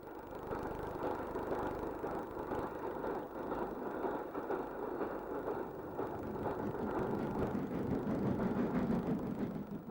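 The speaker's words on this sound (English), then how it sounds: "Holgate Junction with D1560 heading an express perishables southwards." A diesel locomotive, D1560, hauls an express perishables train past Holgate Junction at York, its engine a steady low rumble and drone with rolling wheel noise held at an even level throughout.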